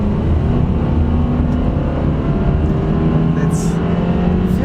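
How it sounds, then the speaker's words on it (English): Boxer engine of a 2024 Subaru Crosstrek Premium, a 2-liter unit in sport mode on a back road, holds a steady loud drone from inside the cabin as it pulls, with the engine note rising slightly near the end. "It's a furious little engine going and going."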